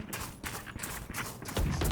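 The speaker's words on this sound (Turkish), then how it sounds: "Ama ayak sesleri var her tarafta ya." Rapid footsteps of players running in the video game Valorant during a deathmatch, a steady patter of quick thuds alongside other game sounds, with a louder burst near the end.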